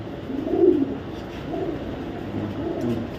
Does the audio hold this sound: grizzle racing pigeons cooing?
yes